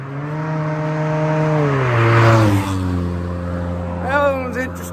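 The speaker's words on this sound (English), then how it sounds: "Car coming." A car passes by on a road, its engine tone sliding downward as it goes by, loud and close, with wind noise and a brief second rise near the end.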